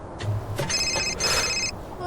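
A phone rings while a call is being placed, with a short electronic ringback tone repeating twice in quick succession over a faint background hum.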